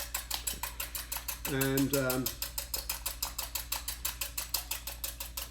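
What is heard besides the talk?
whisking eggs with a small whisk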